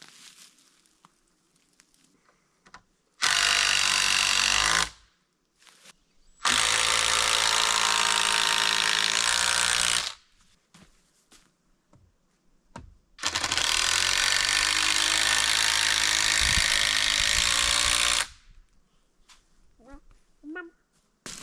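A power drill driving screws into wood at an off-grid build site in Alaska, three long sustained whirring runs of several seconds each separated by quiet pauses, loud and close.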